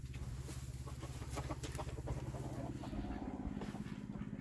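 Chickens and roosters cluck continuously at a moderate distance, with a busy layered chatter of fowl calls.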